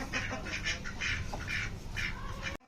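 Ducks kept alongside chickens and a newly arrived rooster quack in a close, steady run of nasal calls, several overlapping bursts filling the whole stretch before cutting off abruptly.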